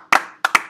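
Three sharp hand claps, one then a quick pair, ring out close and loud in a small room with no one talking.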